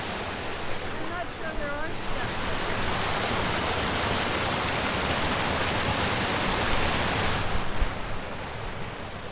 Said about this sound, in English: let me show you the waterfall side